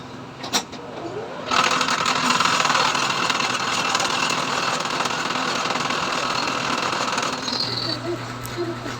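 A milling machine in a custom fabrication workshop drones steadily at close range, a dense mechanical whir starting after a moment of quiet and running continuously with slight fluctuations.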